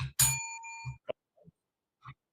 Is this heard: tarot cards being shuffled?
no